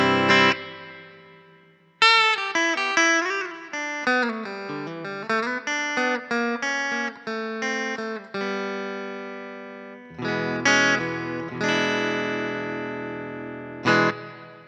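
Hardluck Kings Bombshell electric guitar played through its bridge pickup with a distorted effects tone, a sequence of picked single notes and sustained chords ringing out with pauses between phrases, no voices.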